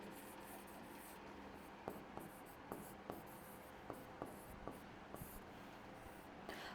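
Chalk or marker tapping and scratching on a classroom board, a series of faint short strokes and taps over a steady hiss of room noise.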